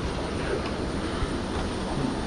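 Steady broadband engine and ventilation roar fills an airplane cabin during boarding, a constant even drone with no talking.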